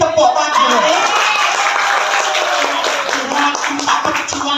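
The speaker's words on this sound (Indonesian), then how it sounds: "tepuk tangan" An audience clapping, quick overlapping claps close by, mixed with some voices and cheering underneath.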